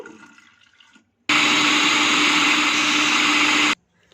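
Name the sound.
blender jug grinding soaked moong dal with water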